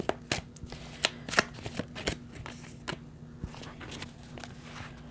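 Tarot cards being shuffled and drawn close by, with quick riffling bursts and soft slaps at the start, then lighter rustling and card handling that fades into faint movement.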